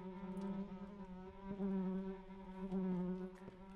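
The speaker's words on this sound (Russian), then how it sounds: "Мухи так звучат неестественно." Flies buzz in the Layers of Fear horror game, a close, steady droning hum with wavering pitch that swells and fades slightly, alone without speech.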